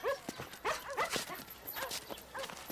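Abandoned dogs bark in short yips with brief whimpers between them, a run of close, sharp calls spread across a few seconds with no talking.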